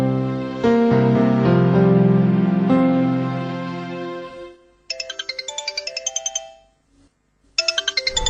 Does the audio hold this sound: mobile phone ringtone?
yes